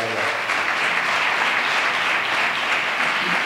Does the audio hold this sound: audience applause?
yes